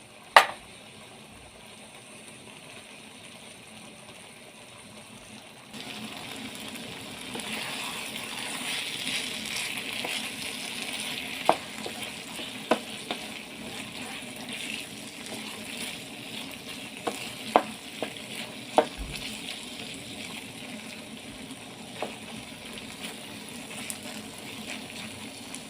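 Beef liver wet fry cooking in a pan: a quiet hiss swells into a steady, close sizzle partway through, with sharp pops and utensil clicks scattered across it and no talking.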